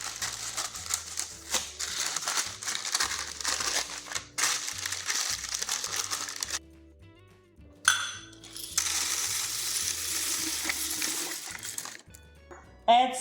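Dried beans are poured onto baking paper lined in a pie crust, giving a dense rattling, clattering rush in two long pours with a brief pause between, close up with crinkling paper.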